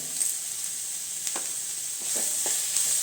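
Fresh curry leaves, two sprigs, crackle in hot oil with sliced big onions for a Kerala beef roast, a steady close hiss broken by a few sharp pops.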